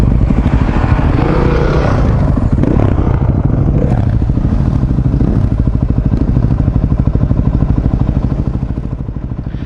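Dirt bikes on a trail, a Yamaha WR250R and a Honda CRF450X. Their engines drone loud and steady throughout, with rough clattering and a slight fade near the end.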